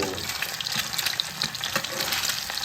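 A fried egg crisping in hot oil in a pan, dense continuous sizzling and crackling with scattered sharp pops, close and loud without talk.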